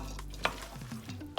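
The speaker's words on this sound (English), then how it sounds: "So we're gonna go in now and mix everything together." A spoon stirs a chickpea and rice cook-up in a pot, with scraping strokes and a couple of sharp knocks over a soft sizzling bubble, close up and without speech.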